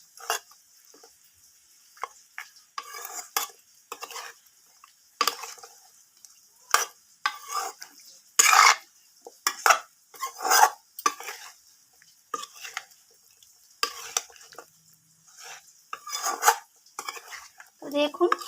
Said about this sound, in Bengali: এরপর আমি চিকেনটাকে ভালোভাবে কাঁচা লঙ্কা আর দইয়ের সাথে ভালোভাবে মিশিয়ে নেব